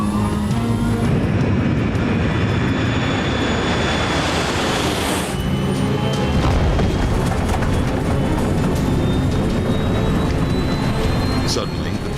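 A jet engine roars loudly as an airliner powers up for takeoff, a heavy sustained rumble with a rising whine, with speech mixed in.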